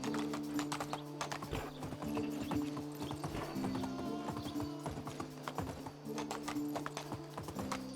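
A horse gallops in the medieval survival game Medieval Dynasty, its hooves thudding in a fast, steady clip-clop rhythm throughout, close and continuous over a faint looping tonal background.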